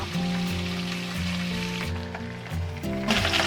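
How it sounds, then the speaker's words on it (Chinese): Fish bones fry in hot oil in a wok over medium-high heat, giving a steady, close sizzle that runs throughout with a faint tonal backdrop of music. "然后保持中大火煎。"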